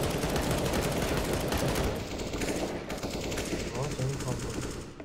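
Rapid automatic gunfire from a Counter-Strike: Global Offensive competitive match, dense and sustained across the whole stretch, with players' voices talking over the shooting.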